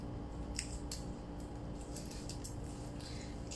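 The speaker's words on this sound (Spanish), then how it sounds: "Corto tres tiritas de cinta." Scissors snip through adhesive tape strips while making a cake pop topiary, a few sharp close cuts over a steady background hiss.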